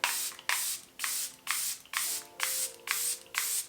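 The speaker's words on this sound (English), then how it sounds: "I'm going to douse my skin in some of this Charlotte Tilbury Airbrush Flawless Setting Spray" Charlotte Tilbury Airbrush Flawless Setting Spray misted onto a face in eight quick, evenly spaced pump bursts, each a close, crisp hiss with a faint click of the nozzle between sprays.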